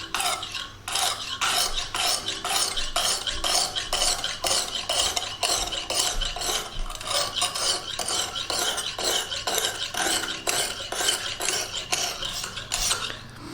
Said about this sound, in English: Love how easy it is to do that on this knife sharpener.